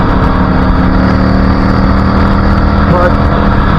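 Yamaha V Star motorcycle engine running steadily and loud throughout while riding through the gears of its five-speed transmission, a constant close rumble with no clear pauses.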